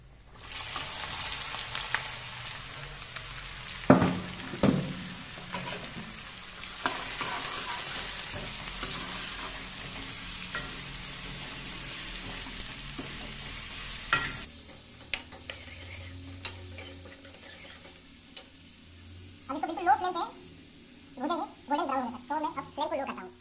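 Onions sizzle and crackle steadily in a hot pan over a very low flame, with stirring scrapes, a spoon clank and intermittent voices talking over the cooking.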